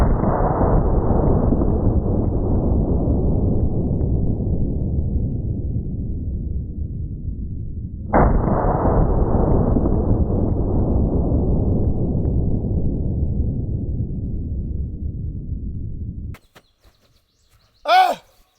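Two enormous 950 JDJ rifle blasts about eight seconds apart, each a sudden broadband boom whose roar and echo rumble slowly away, followed by silence and a short exclaiming voice at the end.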